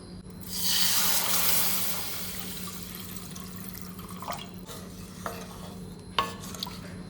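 Home cow's milk heats in a pot on the stove, opening with a loud surge of hissing that settles into a quieter steady simmer, broken by a few sharp clinks near the end.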